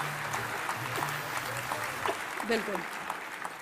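Applause from an audience at a business gathering honoring uplines and mentors, a soft continuous patter of clapping beneath a voice speaking over it.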